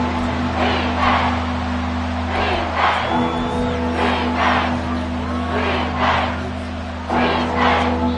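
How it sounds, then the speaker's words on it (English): Football stadium crowd in an EA Sports video game, a loud sustained roar rising and falling in rhythmic chant-like swells as fans try to force a false start, with a steady low hum underneath. "This crowd trying to force a false start here."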